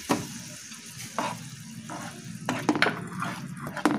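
Egg and potato curry being stirred in a pan after a splash of hot water over the spices: soft scraping and sloshing strokes with a low sizzle, several distinct stirs toward the end, no talking.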